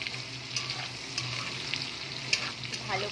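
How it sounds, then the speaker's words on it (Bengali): Dried fish frying in hot oil in a wok, salted and coated with turmeric, giving a continuous close crackling sizzle with a few scattered sharp pops and light scrapes, no talking. "মাছ আমি তেলের মধ্যে দিয়ে দিয়েছি,"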